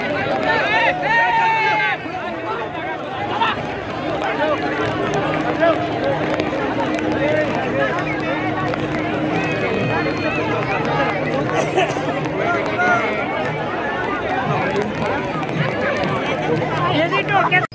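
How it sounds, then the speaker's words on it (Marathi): A dense crowd of warkari pilgrims presses around the palkhi in heavy rain on the Pandharpur Wari from Lonand. Their babble and chatter run continuously, and a close voice talks over them throughout. "आता बघा पाऊस थोडा जास्त वाढलाय त्याच्यामुळं पालखीपाशी गर्दी देखील जास्त आहे"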